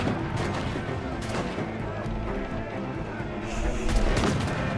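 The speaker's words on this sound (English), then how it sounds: "I love this little swivel cannon thing. So convenient." Swivel cannon shots in the pirate game Assassin's Creed IV: Black Flag, loud booming blasts layered with gunfire and battle noise, sustained throughout with a heavier burst near the end.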